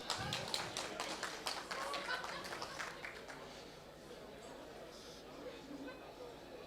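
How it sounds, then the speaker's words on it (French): An audience applauds a nine-year-old boy named Jérémy at a Gravitrax gathering: dense, close clapping that is strongest for about three seconds, then thins and fades while voices carry on over it. "on applaudit bien fort Jérémy"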